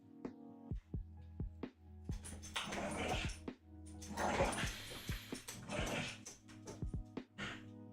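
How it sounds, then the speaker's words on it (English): A dog makes repeated yips, whimpers and short growling snarls in bursts over about eight seconds, close to the microphone, with a steady low hum in the background. "Just checking that the dog's snarling is coming through on the microphone"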